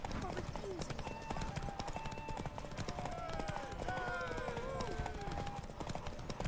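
Roach the horse's hooves clip-clopping at a steady trot in The Witcher 3 video game, continuous and fairly close, under ongoing talk and game music.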